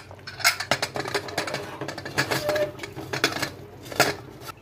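Potato tahri is stirred in a pressure cooker, with a spoon scraping and clinking against the metal pot in quick, irregular strokes, close and moderately loud.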